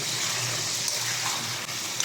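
Water pours steadily into a cooking pot of braised chicken curry, a continuous close gushing hiss without talk.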